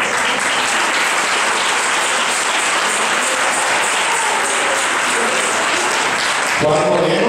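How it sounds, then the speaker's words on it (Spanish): A crowd at a Christmas 2012 awards ceremony gives loud, sustained applause, a dense wash of clapping that holds evenly before shifting abruptly near the end. "Un aplauso muy fuerte."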